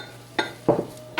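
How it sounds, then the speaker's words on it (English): A spoon or hand working a fairly firm, wet cracker dough in a bowl, giving three short scraping, clinking strokes against the dish at close range. "you're just going to mix that all together real well"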